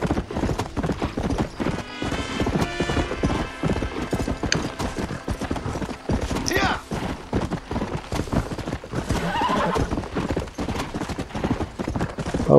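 A horse gallops in Red Dead Redemption with rapid, close clip-clop hoofbeats throughout, broken by a couple of whinnies and neighs, over outdoor game ambience.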